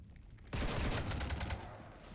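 Sci-fi gunfire from the Mass Effect game opens after a quiet half second into a loud, dense burst of rapid automatic shots, then tapers slightly while staying steady.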